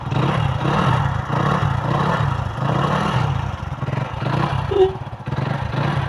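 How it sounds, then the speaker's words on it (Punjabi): A motorcycle engine, with a weak battery, idles steadily after a kick start, close by and loud, with a rough continuous rumble and some clatter throughout. "ਹੁਣ ਆਪਾਂ ਇਹਨੂੰ ਕਿੱਕ ਨਾਲ ਸਟਾਰਟ ਕਰਕੇ ਤੁਹਾਨੂੰ ਦਿਖਾਉਨੇ ਆ"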